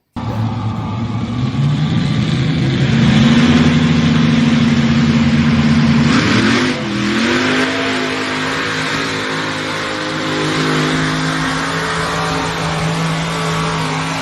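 A four-engine modified pulling tractor at a Turlock pull roars loud and close, its revs climbing, dipping briefly and then holding steady at high power as a sustained, layered mechanical drone with no talking.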